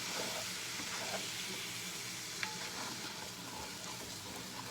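Flour roux cooking over high heat in a pot for chicken stew, giving a constant sizzling, frying hiss with faint scraping from stirring, steady throughout and close by, with no talking.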